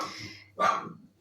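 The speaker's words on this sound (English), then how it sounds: "Excuse my dogs, are so noisy" Dogs barking indoors in a kitchen, a single sharp loud bark burst standing out after a quieter stretch of low background noise.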